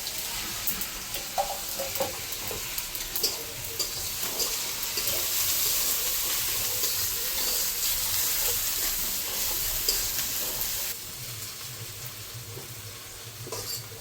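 Whole cardamom, cloves and cinnamon sizzle in hot oil alongside frying onions while cooking country chicken, a steady hiss with scattered crackles and stirring, dropping slightly quieter near the end.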